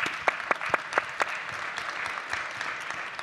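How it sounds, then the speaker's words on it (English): Sparse, scattered hand claps from an audience at a space entrepreneurship panel, a few sharp individual claps standing out near the start before settling into a soft, steady patter. "Oh yeah, you may applaud, that's fine."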